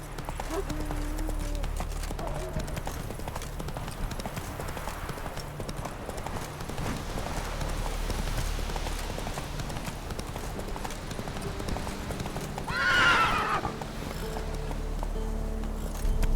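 Hooves of a horse galloping in The Witcher 3 video game drum in a fast, steady clip-clop rhythm throughout, with faint game sounds alongside.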